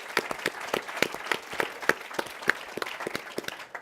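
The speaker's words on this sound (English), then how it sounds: "maybe one more round of applause for Chris, Paul, and Peter." A small audience gives a round of applause for the finalists at an awards announcement, with uneven, fairly sparse clapping that carries steadily throughout at moderate volume.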